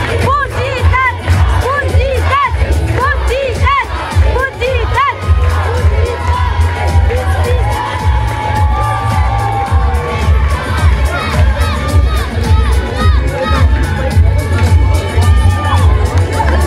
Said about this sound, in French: Je vous demande s'il vous plaît de bien vouloir accueillir avec vos applaudissements les coachs